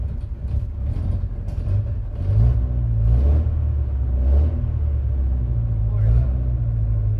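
A Datsun 521 engine with an out-of-tune carburetor idles close up, a steady low rumble with slight uneven pulsing throughout, while a voice talks over it.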